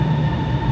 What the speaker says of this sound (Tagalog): Sa tren pa rin ako.